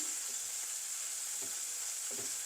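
Bitter melon pieces fry in a pan with an even, bright sizzling hiss throughout, and a few soft scrapes of stirring rise briefly over it.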